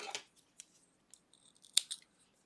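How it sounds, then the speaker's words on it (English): Scissors snip through crochet yarn after a finished sweater shoulder panel, giving two or three short, quiet metallic cuts spread over a couple of seconds in an otherwise silent room. "chain 1 and cut the yarn."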